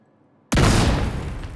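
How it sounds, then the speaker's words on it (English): Grenade blast in The Division 2 video game, a sudden loud boom after near silence that stays dense and rumbling as it slowly decays. "so I'm gonna throw a grenade on me"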